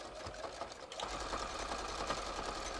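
Sewing machine stitching knit fabric joined to a non-knit piece for a bathrobe, a steady rapid whirring run after a brief start-up, close and alone.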